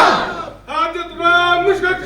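A crowd at an Islamic religious gathering roars back a slogan in unison, a loud, massed chant of many voices that swells after a brief lull and carries on strongly.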